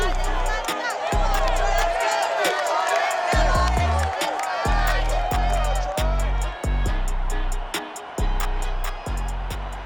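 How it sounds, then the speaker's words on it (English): A large Thanksgiving stadium crowd at Ford Field roars and cheers steadily in Madden NFL 22 during a Bears versus Lions game, a dense continuous swell broken by repeated low thumps. "A good crowd on hand and seemingly ready to go in the Motor City."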